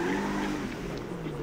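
A car drifting in GTA V, with a loud engine drone and a rough tire squeal sliding under it for a brief moment.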